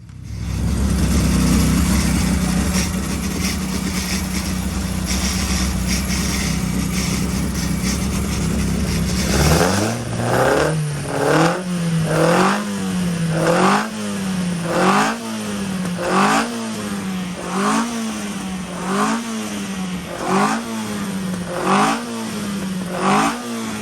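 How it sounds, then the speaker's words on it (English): A Carter 998 Mini engine on a dyno roars steadily, then settles into rhythmic, repeated revving surges that rise and fall loudly and close by, with no talking. "we're on and running with the Carter engine"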